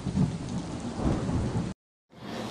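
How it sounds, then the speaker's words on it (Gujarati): Heavy, continuous rain pours down with rumbling thunder during a storm over the villages and town of Dehgam taluka, a loud dense wash that cuts out briefly before resuming. "ગઈકાલ રાતથી જ અત્યારે 4 વાગ્યા સુધી સતત વરસાદ ચાલુ"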